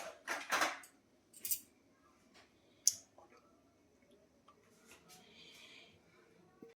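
A spoon scraping and clinking against a pot as ginger garlic paste goes into chicken for handi chicken, a few sharp metallic clicks and taps early on, then quieter scattered kitchen handling noises.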